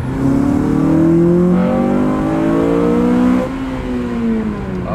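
A Honda Civic Type R FN2 fitted with a budget induction kit revs hard toward VTEC, its loud engine note climbing steadily in pitch before easing off slightly, with no talking.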